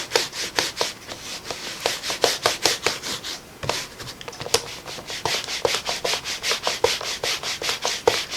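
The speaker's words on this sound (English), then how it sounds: "And scrub the stamp off just a little bit." Repeated back-and-forth scrubbing strokes of a rubber stamp against a Stampin' Scrub cleaner pad, close and distinct in an uneven rhythm, with no talking.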